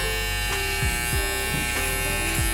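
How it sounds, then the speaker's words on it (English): A Babyliss electric shaver buzzes close up during a skin-fade haircut, a steady, loud motor drone whose pitch dips briefly in repeated short strokes as it passes over the head, with no talking. "This is the Babyliss shaver."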